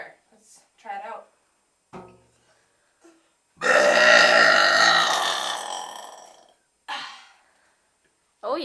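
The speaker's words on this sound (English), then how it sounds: "I ran out of places to burp, and I decided this to be really good to make me even louder." One long, loud burp echoes in a bathroom and lasts several seconds. Shorter throaty sounds and brief vocal bits come before and after it.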